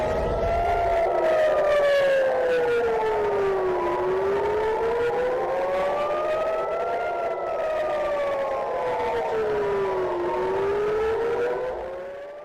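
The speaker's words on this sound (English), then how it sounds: "Sirens sounding over Tel Aviv as a barrage of missiles hit the nation." Air raid sirens wail over Tel Aviv during a missile barrage, several rising and falling tones overlapping loudly and continuously before fading at the end.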